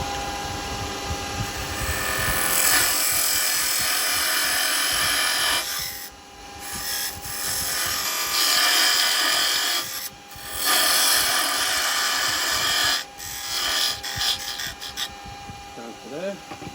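A wood lathe parts off a wooden yoyo, a continuous whirring scrape of the cutting tool that breaks off briefly a few times and resumes, with someone talking over the work.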